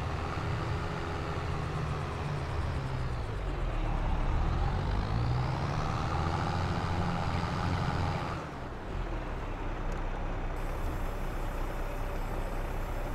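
A truck in Farming Simulator 22 rumbles steadily at close range with a deep engine drone, its pitch rising and falling as it drives, then a brief change in tone before it carries on.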